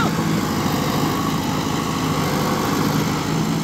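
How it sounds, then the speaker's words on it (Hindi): The engine of a Kubota MU 5502 50 HP tractor runs at a steady, even drone close by, with no change in pitch or level and no talk over it. "परफॉर्मेंस इसकी बिल्कुल साइलेंट ट्रैक्टर है, कुबोटा"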